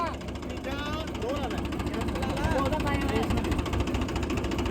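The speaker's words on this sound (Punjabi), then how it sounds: "ਟਰੈਕਟਰ ਆਉਂਦਾ ਓਏ ਆਉਂਦਾ" A steady low engine rumble from a Mahindra 265 DI tractor runs throughout while people talk and shout over it nearby.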